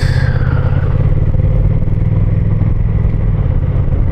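Road traffic with motorcycles and cars heard from a moving motorcycle on a touring ride: a loud, steady engine drone and rumble close by, with wind and road noise, one passing vehicle's pitch falling early on, no talk.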